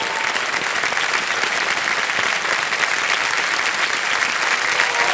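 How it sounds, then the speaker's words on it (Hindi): Studio audience applauding on the Kaun Banega Crorepati (KBC) game show, a steady, dense wash of clapping that fills the whole stretch at an even, loud level. "तालियां बजाओ उनके लिए।"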